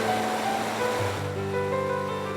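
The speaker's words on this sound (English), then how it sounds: "This little riffle is up Bear Creek, a half-day's easy paddle from the last water treatment plant." Water rushing over a small riffle on Bear Creek, a continuous close broadband wash with faint tonal hum, steady and loud for the whole short stretch.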